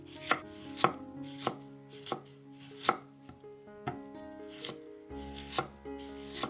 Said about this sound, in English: To make the white cabbage salad, finely mince it.